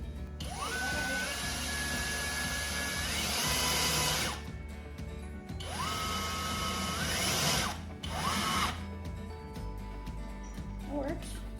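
Power drill driving screws into an IKEA garage workbench, with three separate whirring runs that rise in pitch and hold before stopping, close by, with brief pauses between them.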